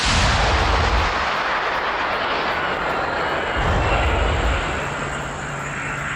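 Loud, booming explosions from military strikes, a dense rumbling blast with a long rolling decay and a second swell of rumble partway through, heard without voices.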